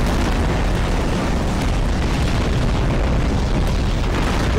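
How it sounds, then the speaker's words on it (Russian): A massive Tsar Bomba nuclear detonation in Garry's Mod roars as a dense, sustained rumbling blast that fills the whole stretch at high, steady loudness with no talk over it. "Серега, ты знаешь, какую бомбу взять? Царь бомба."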